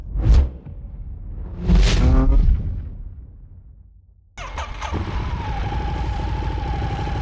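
A Ducati Hypermotard 950 motorcycle being ridden, with two loud close whooshes of the bike passing, then a sudden cut to a steady engine drone with a rising tone, heard with no talk.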